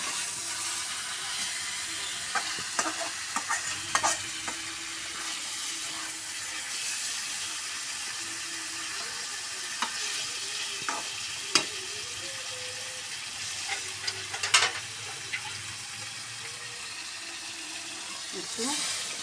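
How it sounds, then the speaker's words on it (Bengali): Pangas fish fries in a pan with a soft continuous sizzle, broken by scattered sharp clinks and scrapes of a utensil stirring it. "মাছের সাথে একটু লাড়ে চাড়ে নিয়ে একটু সামান্য পানি দিব।"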